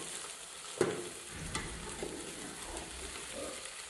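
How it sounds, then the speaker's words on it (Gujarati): Onions hit hot oil for a Kathiyawadi green chickpea curry, producing a faint, steady sizzle with a sharp clatter early on and a few lighter stirring knocks scattered after. "તો તેલ પકાવીને પછી તરત જ એમાં ડુંગળી એડ કરીએ"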